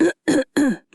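A narrator voices a harsh, hacking cough in an old-fashioned audiobook reading, four sharp rasping bursts in quick succession, close and loud with short silences between them.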